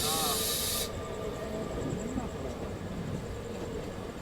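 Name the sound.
MEMU passenger train passing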